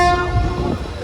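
A MEMU train on the Thrissur–Walayar railway line sounds its horn, a loud sustained blast close by, over the rumble of the passing train.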